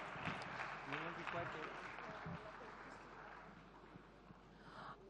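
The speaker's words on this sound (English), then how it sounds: "can we have a big round of applause for all the panelists here?" Audience applause for the panelists at the Maharashtra Educator's Summit, a steady broadband wash of clapping across a hall, with a voice speaking over part of it.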